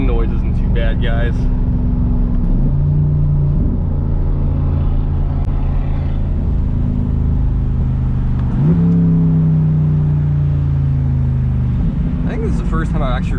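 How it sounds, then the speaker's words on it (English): A Corvette C8 with a Hooker Holley exhaust and aTAck blue air filter, driven in track mode with manual shifting, heard from inside the car: two loud, close pulls with a rising engine roar, gear shifts between them, and wind noise. "First time I actually really showcased this exhaust, like really getting on it in a POV"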